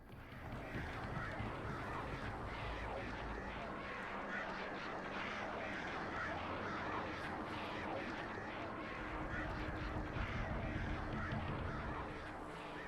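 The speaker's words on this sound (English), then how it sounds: "Are those evil crows?" Crows caw in the dark woods of the video game Alan Wake, harsh calls buried in a dense, steady wash of eerie ambient noise that fills the whole stretch.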